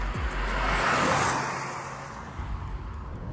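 A Volkswagen Virtus 1.0 TSI sedan driving past, its engine swelling to a broad whoosh near the middle and fading into a softer road rumble, heard alone.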